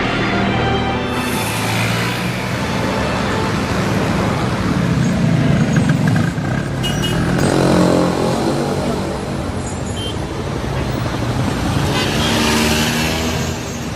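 Dense city traffic with a steady wash of passing cars and trucks, a few short horn toots and engines revving, all continuous and fairly loud with no clear voices.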